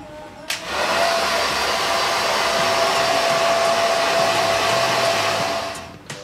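A hair dryer blows on freshly dyed hair in a salon in Sapporo, a loud steady whoosh that starts after half a second, holds for about five seconds, then cuts off, with no talk.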